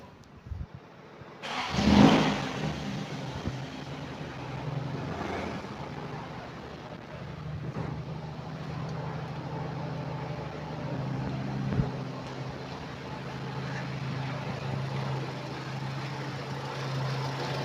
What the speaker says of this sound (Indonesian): Sekarang kita cek untuk mesinnya, kita nyalakan suaranya